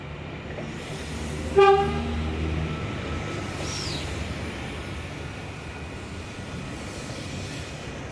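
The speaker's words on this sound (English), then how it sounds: "We have a Hamilton bound VSET arriving into platform number 2." NSW TrainLink V set train arriving at a platform at Koolewong station, a short loud horn toot followed by a steady rumbling roll and faint squeal against a constant background hum.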